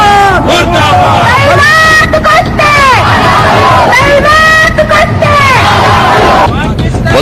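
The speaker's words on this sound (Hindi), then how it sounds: "बलूचिस्तान में ऐसा क्यों पाकिस्तान के खिलाफ नारेबाजी होती है?" A large, loud outdoor crowd at a protest in Balochistan, many voices shouting slogans together against Pakistan in rhythmic bursts, with yelling and whoops rising over a dense roar.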